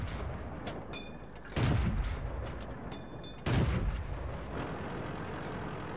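Two heavy tank cannon shots from a Matilda in World of Tanks, each a loud booming blast roughly two seconds apart, set over a steady rumble of engine and battlefield noise.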